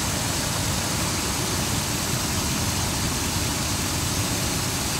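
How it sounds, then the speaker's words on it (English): A warmed-up car engine running on H2O gas vapor fuel idles steadily, a constant close-up rumble with broadband hiss and no talking. "I've got the engine warmed up."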